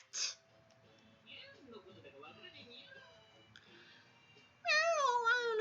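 A voice actor in a visual novel game imitates a cat's meow: a short sharp mew at the start, quiet soft-spoken murmuring, then a loud, drawn-out wavering meow at the end.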